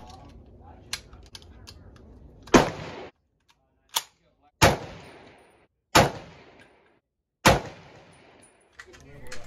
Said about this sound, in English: I'm firing in volleys of 3 rounds, even though I'm not zeroing